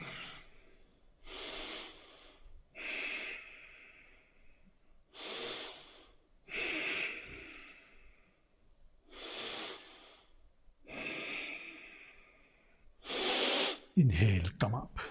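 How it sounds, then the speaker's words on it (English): Deep, audible yoga breaths in a class, a steady series of about eight long breaths spaced a second or two apart, each a soft airy rush, fairly close and alone. "And breathe, deep breathing."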